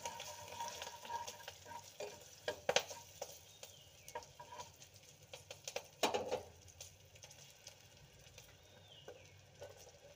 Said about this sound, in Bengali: আর একটু হলুদ, 1 চামচ কাশ্মীরি লঙ্কার গুঁড়ো দিয়ে নাড়াচাড়া করে নেব।